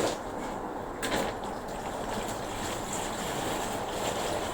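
Water is poured into a plant pot, a soft, steady splashing wash that stays fairly quiet with no talking.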